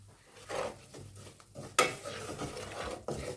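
Ghee spooned into roasting urad dal flour in a pan and stirred, giving soft scraping and spoon clatter with a sharp clink near the middle, low and close, with no talk.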